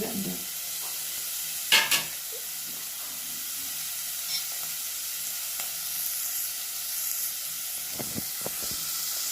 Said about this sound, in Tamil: எல்லாத்தையும் அடுப்பை சிம்மில் வச்சுக்கிட்டு ஒரு வதக்கணும்